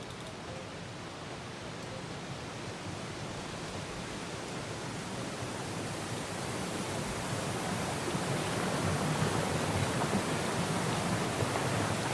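A loud waterfall in the video game Syberia: The World Before, a dense continuous rushing roar of falling water that swells slightly louder toward the end, heard alone.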